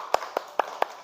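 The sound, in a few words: group clapping for a class group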